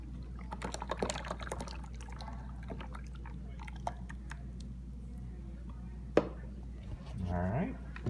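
A second quart of homemade ice cream mix is poured into a bowl, a short rising gurgling pour near the end after scattered light clinks and handling noises at close range.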